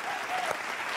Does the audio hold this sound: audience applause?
yes